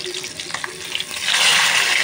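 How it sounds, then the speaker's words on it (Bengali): Pieces of rohu fish fry in oil in a home kitchen pan, a soft hiss with a few light clicks that swells into a louder, steady sizzle in the second half. "মাছগুলি ভাজা হয়ে গেল।"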